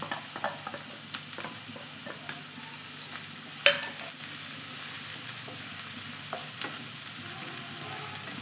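Chopped onions and tomato sautéing in oil for an egg masala, a faint steady sizzle dotted with light clicks and taps of stirring and one sharper knock midway.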